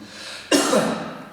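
One sharp, forceful cough bursts out close up, then trails off in a breathy rush, with no talking.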